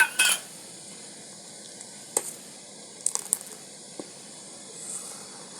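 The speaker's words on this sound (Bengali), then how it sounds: "আমি এর মধ্যে অল্প অল্প এই যে লেবুর রসটা দিচ্ছি আর নাড়তে থাকবো" Milk in a pot is stirred as lemon juice goes in, giving quiet, sparse metallic clinks and scrapes of a spoon against the pot over a faint background, with one louder clatter at the start.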